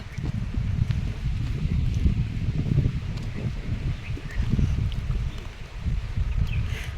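Strong wind blows outdoors in a Konkan village, a steady broad rushing roar with low gusty buffeting that swells and eases throughout, loud and continuous with no talking.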